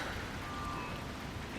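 Steady rain falling in the Wild Hearts video game, a soft continuous hiss of drops on surfaces with no voices, faint and even throughout.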